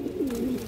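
A female pigeon gives a low, soft coo, a single short gliding call that sits close and steady against faint background hiss.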